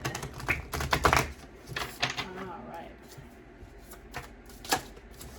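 Brief bursts of tarot cards being shuffled, riffling and clattering close by, with a short spoken remark.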